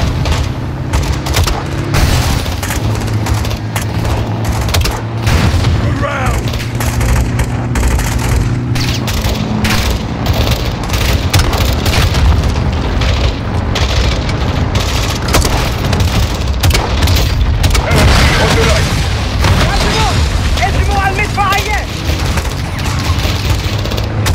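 Loud explosions and dense gunfire fill a Call of Duty battle, with repeated booms from a launcher amid constant rattling shots and debris.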